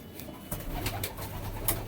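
Pigeons coo softly in a loft of flying and show pigeons, a steady low murmur of several birds with a brief louder call near the end.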